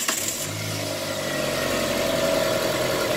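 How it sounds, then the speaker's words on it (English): A car engine cranks and catches, then settles into a steady, loud fast idle with a constant droning hum. "I'm going to start the engine up again."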